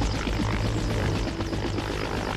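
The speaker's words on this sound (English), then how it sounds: "This chopper will fly you to the Gambo South Beach!" A steady, loud roar of helicopter rotors and engine from the video game Haze, continuous and close, with no talk over it.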